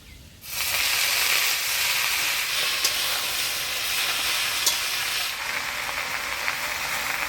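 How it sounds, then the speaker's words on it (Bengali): Mixed greens dropped into hot oil with black cumin and crushed garlic burst into a loud sizzle that holds steady, with faint crackles through the hiss, close by and with no talking. "মাছের ঝোল নামাই নিলাম এবার শাক ভাজবো"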